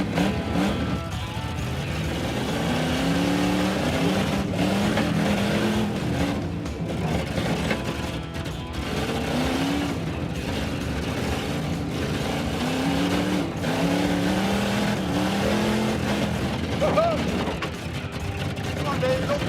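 Off-road Dodge Challenger launching on a rally course, a continuous engine roar rising and falling over about twenty seconds, loud and rough, with voices talking over it.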